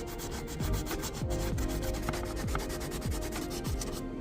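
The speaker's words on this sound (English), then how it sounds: "I'm gonna have to go back over and sand this with our sanding block" Rhythmic sanding by hand: a rough, scratchy rubbing sound repeating in regular back-and-forth strokes, close up and steady, with no voices.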